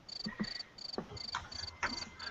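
Crickets chirp in short, regular bursts of high trills, fairly faint and steady, with a few soft low knocks underneath and no talking.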